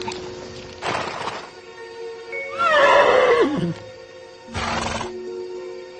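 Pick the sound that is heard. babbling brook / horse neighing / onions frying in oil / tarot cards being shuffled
horse neighing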